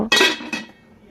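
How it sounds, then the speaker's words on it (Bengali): A metal lid set onto a cooking pot of prawn pulao after stirring: two sharp, close metallic clanks, the second softer, followed by a short fading ring. "জলটা দেওয়ার পর আমি নাড়াচাড়া করে নিয়ে ঢাকা দিয়ে দেব"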